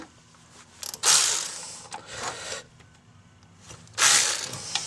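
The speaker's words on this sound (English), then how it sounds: "take a 10 millimeter and go ahead and" Ratchet with a 10 mm socket clicks in bursts while loosening water pump pulley bolts on a 2004 Mercedes C320 4Matic, with quick pawl clatter, pauses between strokes and a final louder burst, close to the listener.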